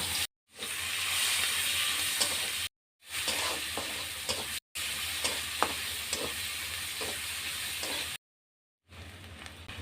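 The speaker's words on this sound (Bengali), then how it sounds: "পেঁয়াজ ভাজা" Chopped onions fry in a pan for a prawn curry with colocasia stems, giving a loud, steady sizzle with stirring scrapes, broken by several short silent gaps.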